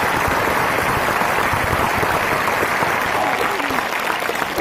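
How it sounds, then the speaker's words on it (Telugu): Loud, sustained clapping from a gathered crowd at an event in Mudhole, Nirmal district, dense and even for several seconds, close and strong with faint voices under it. "గట్టిగా చప్పట్లు కొట్టండి."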